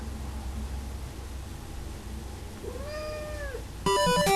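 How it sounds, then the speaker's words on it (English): A single cat meows once, drawn out and fairly close, over a steady background hiss, followed right after by a burst of bright, beeping retro game music. "And that was my cat."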